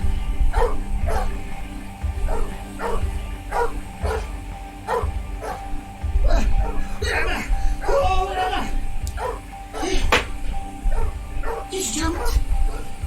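A dog in The 39 Steps video game barks and yips in a steady run of sharp, loud barks, close up, with people talking over and between them.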